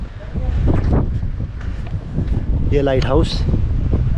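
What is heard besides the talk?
strong wind at a seaside fort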